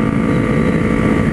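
Kawasaki ER-6N motorcycle engine with a very open HP aftermarket exhaust, droning loudly and steadily at speed with heavy wind rush over the microphone, no talking heard.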